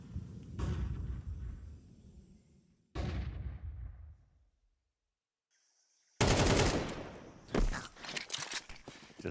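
Rapid automatic gunfire and shots from a Counter-Strike esports match, loud bursts broken by a short quiet gap, then heavy sustained firing near the end.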